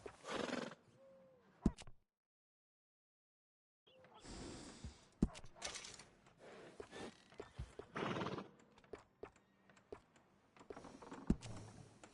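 A horse in Red Dead Redemption 2 snorts and gives whinnies in short bursts, with clip-clop hooves and breathing around them, broken by a brief silent gap, close and fairly quiet.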